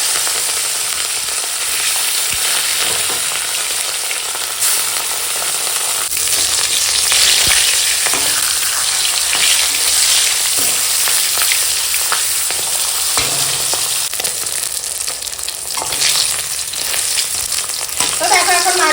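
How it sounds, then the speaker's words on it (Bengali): Fish pieces rubbed with salt and turmeric fry in hot oil, giving a loud, continuous crackling sizzle for the whole stretch, with occasional pops and light stirring scrapes. "দেখো এখন তেল গরম হয়ে গেছে আর মাছ ভেজে নেবো"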